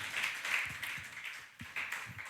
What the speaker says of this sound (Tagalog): Yung the best na palakpak para sa Panginoon